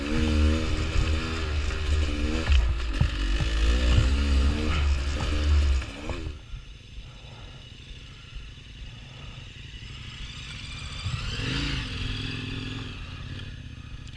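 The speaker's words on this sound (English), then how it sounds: "Sand whoops on a quarter-ton bike." A KTM 1090 Adventure motorcycle rides through sand whoops on an Arizona single track, its engine loud and revving in rising and falling surges before settling to a lower, rougher drone.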